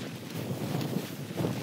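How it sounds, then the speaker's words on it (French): Wind gusting outdoors on a farm, a broad steady rush with microphone buffeting, close and continuous without speech. "Tu vois, avec le vent ici."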